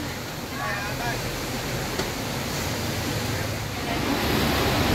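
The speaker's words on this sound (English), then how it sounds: "There is some waterfall. Water's falling over there." Steady broadband rush of water falling over a waterfall beside a river in the mountains, continuous and fairly loud throughout with no clear voices.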